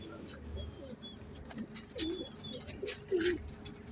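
A male Kamkar pigeon (Amber Sari) coos close by in a quiet setting, several soft low rolling coos in short bursts over about four seconds.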